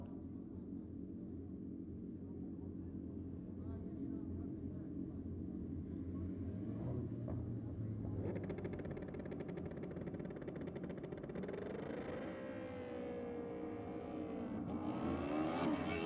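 A pair of drag racing motorcycles sits at the start line at a JDM Euro night drag event, engines rumbling low and steady. Around twelve seconds in they launch into a rising, distant roar, with a commentator talking over it.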